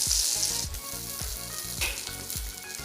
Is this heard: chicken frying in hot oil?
yes